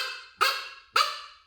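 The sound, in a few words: predator call imitating dog barks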